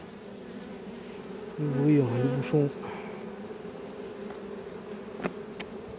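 Honeybees buzz in an opened hive as it is smoked, a low steady hum with a louder close buzz swelling briefly in the middle, while someone speaks French quietly.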